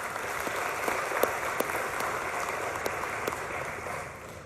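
A church congregation applauds, a dense steady wash of many hands clapping at mid distance, with a few louder individual claps before it starts fading at the end.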